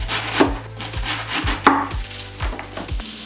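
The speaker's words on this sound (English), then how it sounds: "So just slice into it diagonally like that" A knife chops through cabbage for kimchi on a cutting board, giving a steady series of sharp, close thuds and crisp crunches roughly every half second, with no talking.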